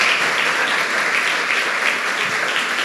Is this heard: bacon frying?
no